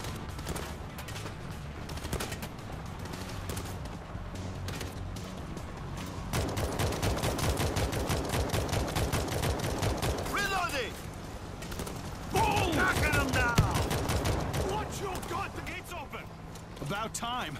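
Machine gun fire from the World War Z video game, sustained bursts of rapid automatic shots that grow louder in the second half, layered with other gunfire and game effects.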